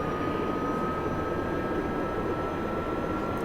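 A Gazelle helicopter's turbine engine in the DCS flight simulator holds a steady, loud broadband roar with a sustained whine, running continuously without pause or talk.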